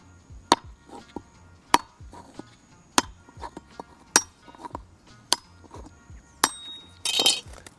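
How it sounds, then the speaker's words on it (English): The butt of a machete taps a mature coconut, spiralling around it, in sharp, close, evenly spaced knocks. Softer taps fall between the louder ones, and a brief crackle marks the shell splitting. "we're gonna do that same popping technique, but we're gonna go in a spiral around the coconut"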